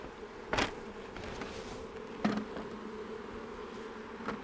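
Honey bees buzzing around a nuc hive in a steady, close drone, with a few brief louder surges as bees fly past near the ear.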